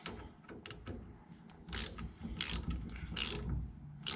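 A part on a Datsun 521 mini truck steering column is tightened with a ratchet, giving repeated short bursts of clicking pawl strokes in an uneven rhythm, close and fairly quiet against a still shop.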